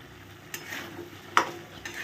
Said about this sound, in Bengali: পুরো লো ফ্লেমে কিন্তু কষাবে কারণ হচ্ছে এর মধ্যে যেহেতু কাজু বাদাম কিশমিস আছে